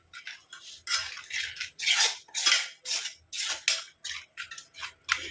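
Henna leaf paste being stirred in a bowl, a close series of rhythmic scraping and clinking strokes from a utensil, about a dozen in a row.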